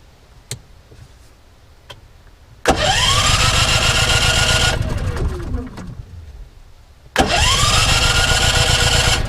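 Small engine being started with the choke on: a few clicks, then it fires and runs loudly for a couple of seconds, winds down and stops, then starts and runs again, close by.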